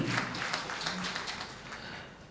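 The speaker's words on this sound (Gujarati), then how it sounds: "ખૂબ તાળીઓ એકવાર એમના માટે થવી જોઈએ" An audience claps at a book launch ceremony after a performance, a dense burst of applause that gradually fades over a couple of seconds.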